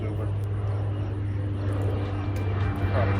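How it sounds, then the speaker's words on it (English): A steady low engine drone of a small propeller crop duster airplane passing overhead, continuous and fairly loud throughout, with faint voices underneath. "Wait till the airplane goes over."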